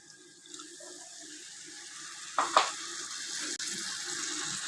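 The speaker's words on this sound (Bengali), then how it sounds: "হালকা একটু পানি দিয়ে দেবো" Water poured into a curry of spices, salt, turmeric and chili powder cooking in a pot, a short splashing burst standing out against a steady low hiss of the cooking, with no voices.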